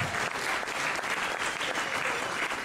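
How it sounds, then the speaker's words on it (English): Guests at a dinner event applaud the chefs who served the meal, a brief burst of warm, full-room clapping that stays steady and fairly close throughout. "Give them a round of applause,"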